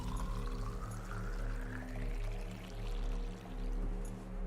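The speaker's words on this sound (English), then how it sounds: "Such a weird water noise." Burbling, pouring water sound inside an underwater base in the video game Subnautica, steady and moderately loud over a low game hum, with a rising tone sweeping through.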